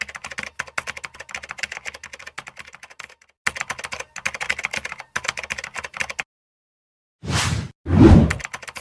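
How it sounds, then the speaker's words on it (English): Rapid clicks of a computer keyboard come in bursts of steady typing with short pauses, close and clear, followed by two soft whooshing sweeps. "Type as you normally type."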